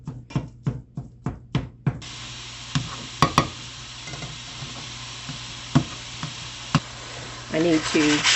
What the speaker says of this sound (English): I need to saute the rice mixture